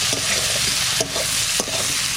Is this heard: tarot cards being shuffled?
no